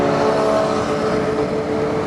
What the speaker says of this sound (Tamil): சூப்பர் பைக் கேங்கு போயிட்டுருக்காங்க.